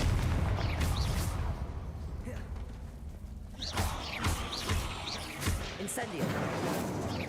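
Heavy booming blasts and crashes from the Confringo spell in Hogwarts Legacy pound through a loud, rumbling game mix, several sharp impacts in the later seconds, with a voice speaking over them.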